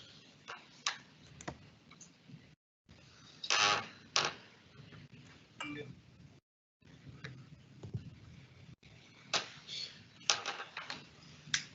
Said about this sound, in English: I apologise for my squeaky desk